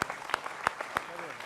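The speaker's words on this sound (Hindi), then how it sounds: "तो जोरदार तालियों से जनता जनार्दन का भी अभिनंदन है" Several distinct, evenly spaced claps ring out in a Hindi TV news debate studio as the audience is welcomed, sharp and close over a low murmur of voices.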